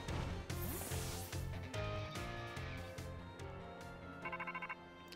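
Rotom phone ringing with an incoming call in the Pokémon Violet video game, a bright electronic ringtone jingle over game music, ending in a short burst of rapid chirping tones.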